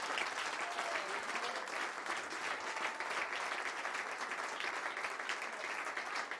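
Worship congregation clapping and cheering for the Lord, a dense, even wash of applause that holds at a constant level throughout, moderately distant, with no clear speech over it.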